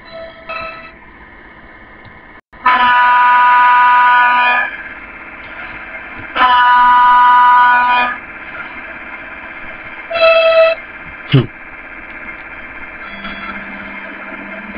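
Train horn sounding for departure in the MSTS train simulator video game, on an express from Prague to Košice: two long sustained blasts over a steady locomotive hum, followed by a shorter toot.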